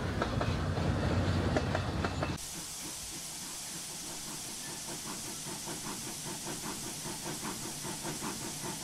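A loud hissing rush gives way to a preserved steam train rolling along the rails into a station, with steady rhythmic clickety-clack and a background hiss of steam.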